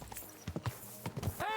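Hooves of a horse in Kingdom Come: Deliverance 2 clopping in two quick groups of several steps, moderately close, with a brief voice-like tone at the end.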